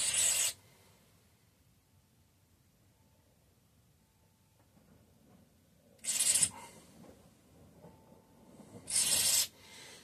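Aerosol carburetor cleaner sprayed into the tiny holes of a jet from a Tecumseh HH120 carburetor on a Bolens Husky 1253: three short, loud hissing bursts, one at the start and two more several seconds apart, with quiet between.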